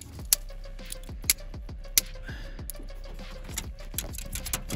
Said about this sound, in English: Andy locked the keys in the van